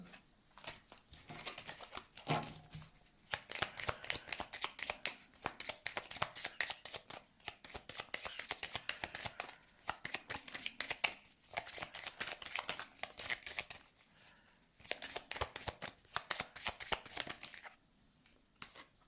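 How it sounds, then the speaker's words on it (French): Tarot cards being shuffled and laid out on a table, heard as faint, close, rapid riffling and flicking in repeated runs, with short pauses between handfuls. "Je vais mettre des cartes quand même dessus"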